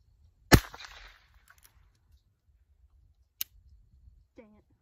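A shotgun fires once at pumpkins outdoors, a sharp, loud crack with a short ringing tail, followed a few seconds later by a fainter distant snap, with a brief voice at the end.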